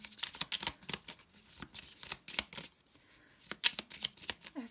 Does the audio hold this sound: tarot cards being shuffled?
yes